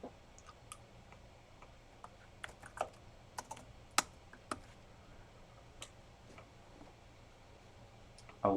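Close, uneven typing on a computer keyboard, with bursts of soft key clicks and a few sharper louder taps, no speech over it.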